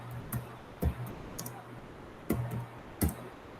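Several separate keystrokes on a computer keyboard, including a Ctrl+Enter press, sound in a quiet room as sharp, close taps spaced irregularly.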